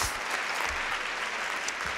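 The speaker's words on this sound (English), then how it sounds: "Yes, you can clap for that" A large awards-ceremony audience claps steadily throughout, a dense, even wash of applause with no voices on top.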